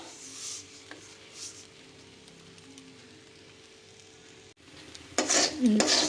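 Salt being stirred and dry-heated in a kadai, mostly a soft continuous scraping under faint noise, then louder close scraping and clinking toward the end.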